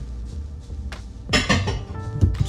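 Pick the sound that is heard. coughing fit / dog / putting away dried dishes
putting away dried dishes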